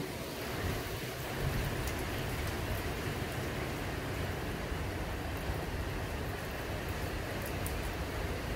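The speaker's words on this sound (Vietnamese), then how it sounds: "Mưa tạt quá rồi, đóng cửa lại." Rain blows in through an open door during a storm, a dense, steady wash of hiss and patter that stays loud and even throughout, with no talking.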